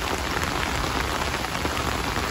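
Rain falls steadily on a backyard vegetable garden, a dense, even patter that stays close and continuous throughout, with no voices.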